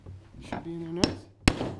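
Two sharp, loud metallic whacks from a hammer striking a crimp tool onto a battery cable lug during 48V Trojan battery wiring, spaced about half a second apart, with a voice talking briefly just before.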